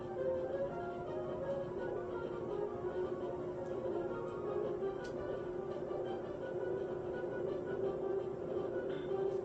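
Steady rolling rumble of a train in the SNES game Tiny Toon Adventures: Buster Busts Loose!, a continuous mechanical drone that holds level throughout with no breaks.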